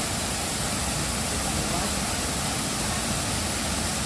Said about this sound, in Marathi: हा सुंदर धबधबा आहे तो